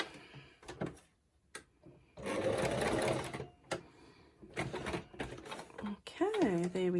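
A sewing machine stitches through a paper envelope in bursts, close and fairly loud, with short stops between runs, and a voice briefly speaks near the end.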